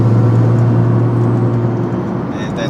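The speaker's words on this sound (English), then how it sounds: "And that turbo sound is just... there's a little downshift." Nissan GT-R driving: a loud, close, steady low engine drone with a faint turbo whir, easing slightly near the end during a small downshift.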